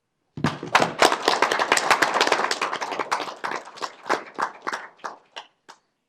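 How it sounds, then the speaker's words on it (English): Board of supervisors meeting audience giving a round of applause: a burst of dense clapping that thins to a few scattered, separate claps before stopping into silence. "I'd like us to show them our appreciation with a round of applause."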